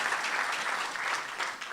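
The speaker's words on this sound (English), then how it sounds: "Let's give him another round of applause." Audience at a university entrepreneurship event giving a short round of applause, a dense, bright wash of clapping that holds steady and slightly pulses in intensity.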